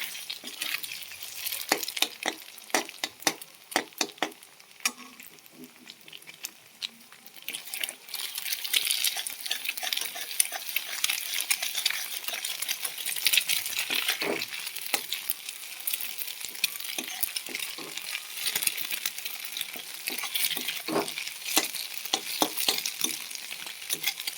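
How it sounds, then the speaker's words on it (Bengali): Potatoes and cracked egg fry together in a pan while being stirred, a steady bright sizzle broken by frequent scraping and clacking strokes of a spatula throughout, close and with no talking. "এবার একটু ভালো করে ভেজে নেব ডিমে আলুতে।"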